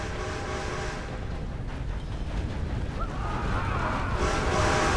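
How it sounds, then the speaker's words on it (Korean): A steam-era train rolls past in Red Dead Redemption 2, a steady heavy rumble with rattling wagons that swells louder toward the end. "저 기차 오면은"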